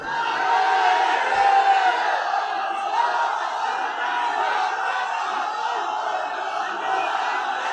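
A large crowd at an Islamic religious gathering shouts together in a loud, sustained massed roar of voices, close and continuous.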